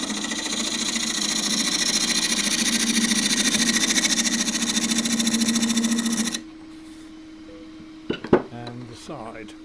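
A wood lathe spins while a 3/8 bowl gouge trues up the base of a turned picture frame blank. A steady, close whirring hum fills most of the clip, then cuts off, followed by a few sharp knocks and clunks.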